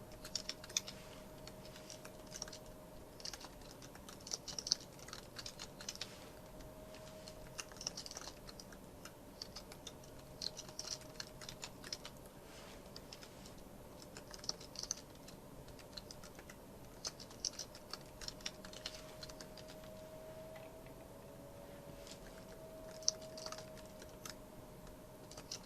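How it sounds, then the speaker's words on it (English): Typing on a computer keyboard while coding, with steady, quiet clusters of key clicks running throughout at close range over a faint background hum, with no talking. "I hate typing repetitive code."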